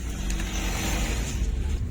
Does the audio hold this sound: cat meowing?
no